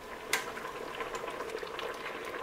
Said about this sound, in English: And we've got a nice full rolling boil again for a second time.